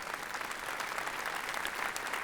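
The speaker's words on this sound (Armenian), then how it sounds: "Օնոյին բարձր ծափարենք" A studio audience in a TV entertainment show bursts into dense, steady applause, a sustained wash of many hands clapping at moderate distance with no voices above it.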